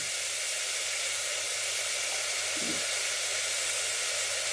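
Two or three green chillies fry in a pan, a loud, steady, hissing sizzle that holds evenly throughout with no talking.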